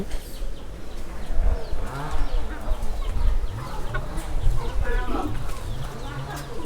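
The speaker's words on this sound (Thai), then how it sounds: "ไก่บ้าน" Domestic chickens cluck steadily and close by in a home garden, with many overlapping calls rising and falling.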